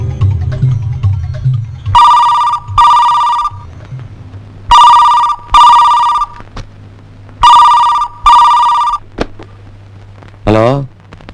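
An old-fashioned telephone bell rings loudly in three pairs of sharp double rings with pauses between, before a voice briefly answers at the end.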